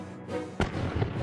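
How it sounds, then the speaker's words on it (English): A single cannon shot booms out sharply, a sudden deep blast with a short rumbling tail over a steady ambient background. "He imagined firing a cannon from the top of an extremely tall mountain."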